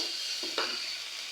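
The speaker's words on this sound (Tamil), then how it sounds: "இப்போ இஞ்சி பூண்டு பேஸ்ட் நல்லா வதங்கிடுச்சுங்க." Ginger-garlic paste sautés in a pan while village-style chicken curry is being cooked. A soft, constant sizzle is broken by a brief stirring scrape at mid-clip, with no voices.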